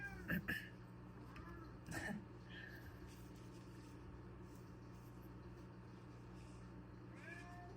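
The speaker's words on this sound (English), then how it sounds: "this is my very food motivated cat." A cat meows a few times, short cries spaced apart over a steady low hum, with a quieter mew near the end.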